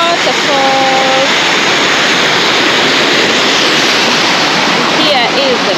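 A waterfall roars in a loud, unbroken rush of falling water that stays steady from start to finish. A voice briefly rises above the roar near the start and again near the end.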